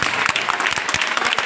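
An audience at a school exhibition prize ceremony claps in a steady, dense burst of applause close by, with a voice faintly underneath.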